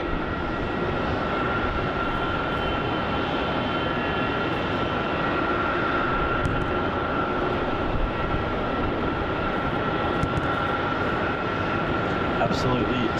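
A Singapore Airlines jet departs Melbourne Airport bound for Singapore, a continuous loud jet engine roar with a steady whine, sustained from start to end, with talk over it.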